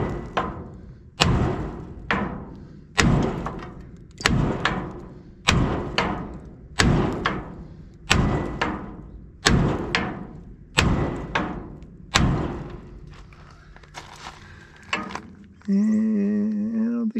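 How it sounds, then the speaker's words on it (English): Heavy hammer blows against a steel frame piece on a 1953 GMC 5-window pickup, about ten loud metallic thuds at a steady rhythm of one every second or so, close up, then a different droning tone at the end. "see if I can even knock this thing loose."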